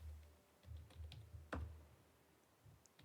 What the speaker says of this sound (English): Now type your text.